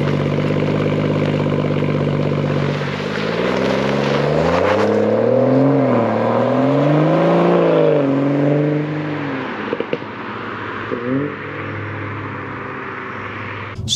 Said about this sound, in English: let's jump in the car and I'll show you guys what it sounds like on the move